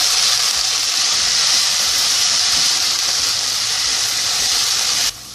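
Spring onion and potato hitting hot oil with cumin and mustard seeds, giving a loud, continuous broad sizzle close by that holds steady before easing slightly at the end.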